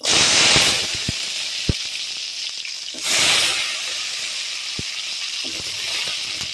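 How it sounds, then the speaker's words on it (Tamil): Hot oil in a kadai crackles as ingredients such as garlic, cinnamon, chillies and tomato go in for a herbal rice-ball dish. Two loud sizzling surges, each fading to a steady hiss, with a few sharp utensil clicks in between. "கடாய் வச்சு ஆயில் விட்டாச்சுங்க இப்போ எல்லாத்தையும் இதில் போடுவோம்"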